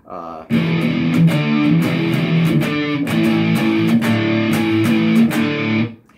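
Electric guitar strums chords in a steady rhythm, switching back and forth between two chord shapes, loud and close with a slightly gritty tone.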